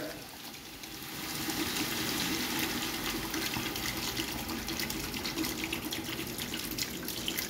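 Water pours steadily from a kitchen tap into a cooking pot for beef, a continuous close gushing stream that starts softly and holds at an even level.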